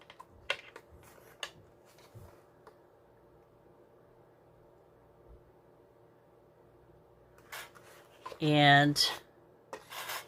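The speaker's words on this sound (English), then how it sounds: "So, I'm going to put a little paper in there." Paper is slid into a We R Memory Keepers Mini Cinch binding punch. After a long near-silent stretch with small ticks, there is one brief, loud scraping rasp near the end, and a single spoken word is heard.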